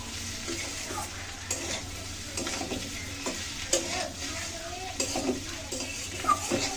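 A cauliflower, potato and egg fry is stirred in a pan, with spatula scrapes and clinks over a steady soft sizzle, close and moderately quiet with no talking.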